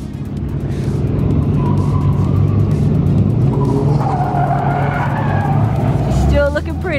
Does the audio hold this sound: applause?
no